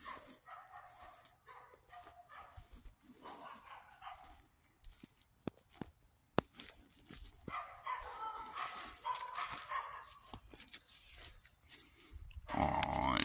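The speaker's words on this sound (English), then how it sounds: "Neighbor dogs." Neighbor dogs bark in bursts from a distance, with some whimpering and animal noise mixed in; a voice speaks softly at times between the barks.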